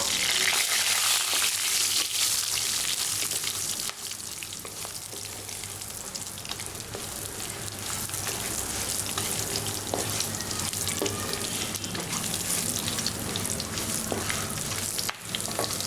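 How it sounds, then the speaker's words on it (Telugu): Cumin, shahi jeera, cardamom and cloves frying in oil, a loud dense sizzle and crackle that runs steadily with brief stirring scrapes and small pops, no talk. "జీలకర్ర షాజీరా యాలకులు లవంగాలు వీటిని విధంగా కాసేపు ఫ్రై చేసినాక"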